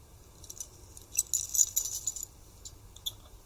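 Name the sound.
keys jangling from an everyday carry pocket dump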